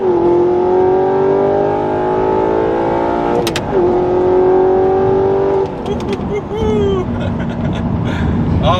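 An Audi R8 fitted with an Fi active exhaust, valves open, accelerates hard; a loud, rising engine roar climbs through the gears with brief shift breaks, heard close up from inside the car.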